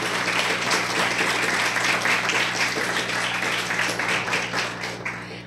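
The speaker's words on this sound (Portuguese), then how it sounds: "Você pode aplaudir pela vida delas?" A church congregation breaks into sustained applause during a pastoral ordination service, a dense wash of hand claps that holds steady for several seconds before thinning slightly near the end.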